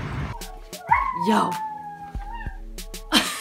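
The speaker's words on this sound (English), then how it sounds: "You wouldn't think that was a dog sound." A dog being looked after for a friend whimpers and whines in a long, rising-and-falling, almost human-sounding cry, close by, with a few short yips. People speak briefly around it.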